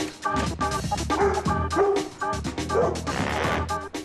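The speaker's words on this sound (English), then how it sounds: "So there's a dog behind the gate." A dog behind a gate gives a rapid series of loud, close yips and barks with a few whimpering whines in between, with no talking.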